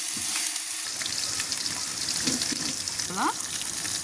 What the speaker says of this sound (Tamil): இப்போ இஞ்சி பூண்டு போட்டுக்கலாம். பாருங்க, இப்போ நல்லா வதக்கிக்கணும்.